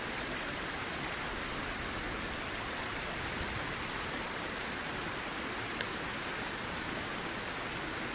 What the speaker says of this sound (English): Slurping directly from the waterfall.